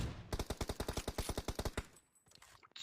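A rapid burst of PUBG Mobile gunfire, about twenty sharp automatic shots in quick even rhythm, then it stops and fainter clicks and noises follow.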